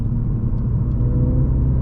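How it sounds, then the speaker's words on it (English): A 2010s F56 Mini JCW with a manual gearbox blips its engine to match revs on a slow downshift into second, heard as a steady low engine rumble from inside the car. "So if I go slow, second gear rev match perfectly done by the car."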